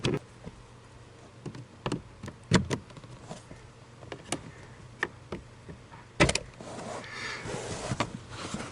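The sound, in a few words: plastic trim fasteners being undone by hand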